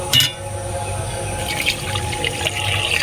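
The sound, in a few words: water being poured into whisked lentils in a pot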